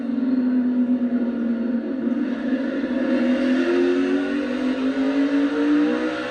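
NASCAR cars race bunched together on a short track, engines roaring loud and sustained with a rising, shifting pitch as the pack runs close and passes.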